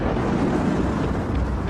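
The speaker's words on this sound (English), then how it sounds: "a moment of eerie silence precedes the sonic bang" Sonic bang from a comet impact blast, a deep, sustained rumbling roar with heavy low-end energy and no distinct onset, steady and loud throughout.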